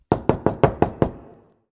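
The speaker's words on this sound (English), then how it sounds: "Then there was a knock on the door." Six quick, sharp knocks on a door, evenly spaced and fairly loud, each with a short woody ring, the last one fading into silence.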